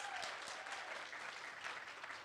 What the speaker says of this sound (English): May I give an applause to her?